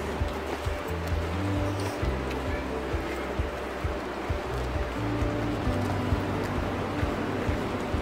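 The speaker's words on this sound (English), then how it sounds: "I can hear the falls, the hush." A waterfall in a river ravine in the Golan Heights, Israel, gives a steady, dense rushing hiss throughout, with voices talking over it.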